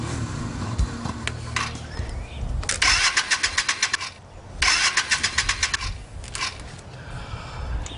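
A motorcycle with carburetor trouble cranks in two long bursts of rapid rhythmic turning over, close and loud, with sputters between them but no catch.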